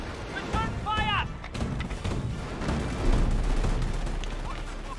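A Company of Heroes 1 firefight carries on as continuous dense gunfire and rumbling blasts, loud and steady, with a shouted voice line briefly over the start.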